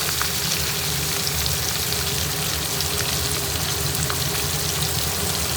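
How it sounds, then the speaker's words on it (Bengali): Boiled taro sizzles steadily while being stirred in a little oil in a pan, a continuous close frying hiss with no talk over it. "কচুটাকে একটুখানি তেলে নেড়ে নেব"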